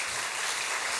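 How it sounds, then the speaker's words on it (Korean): Brief, dense clapping from a church congregation during a Sunday afternoon worship service, a steady wash of many hands with no talking. "박수 한번 주세요. 박수."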